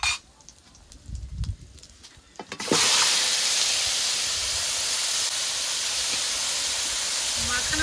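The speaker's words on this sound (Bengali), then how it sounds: "ফোড়ন দিয়ে দিয়েছি, একটু নেড়ে চেড়ে মাখানো মাছগুলো ঢেলে দেবো।" Marinated hilsa fish poured into hot oil tempered with dried chillies and whole cumin: after quieter clatter and handling, a sudden loud burst of sizzling erupts and holds steady as a strong, even hiss.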